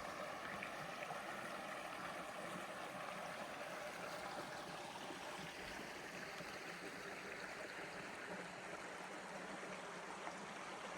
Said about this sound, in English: we've got a super cool little river. There's enough to have some nice white noise